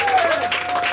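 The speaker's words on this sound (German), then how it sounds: "Applaus für Dörte." A short burst of crowd applause at a birthday-night bar concert by a covers band in a small venue, dense and fairly loud, with a sustained musical tone beneath it.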